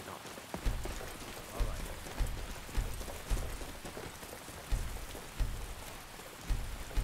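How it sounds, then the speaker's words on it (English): Steady rain falls in a video game, a continuous hiss with dull thumps recurring about every half second underneath, no voices. "I hate the freaking rain so much that I'm okay with doing this."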